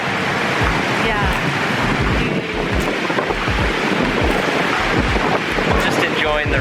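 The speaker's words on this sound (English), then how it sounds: "Just enjoying the rain" Heavy rain pours steadily onto a city street in Cebu, Philippines, a dense continuous hiss with gusty wind buffeting the microphone and low rumbles throughout, loud and close with no break.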